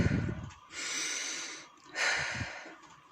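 Two long, breathy exhales through the mouth during a breathing exercise, each a soft rushing whoosh lasting about a second, close and quiet, separated by a short nasal inhale and faint snorts.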